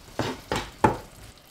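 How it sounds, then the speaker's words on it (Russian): Vegetables stewing in a frying pan over low heat are stirred in three distinct scraping strokes, close and moderately loud, with a faint simmer between them. "После того, как сковородка разогрелась, тушим наши овощи на небольшом огне примерно 10 минут."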